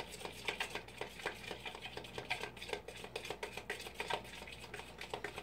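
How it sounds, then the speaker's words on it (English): Food being stirred in a pot with a spoon during rustic home cooking: soft, quiet scraping and clicking strokes repeating steadily, with no talking. "I like to stir it up there pretty good"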